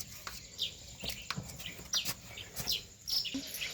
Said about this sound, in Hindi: आपको चिड़ियों की चहचह करती आवाज़ आती होगी